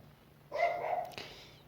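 A neighbor's dog gives a single short bark with a brief yelping tail, moderately distant and fairly faint against a quiet room, no talking.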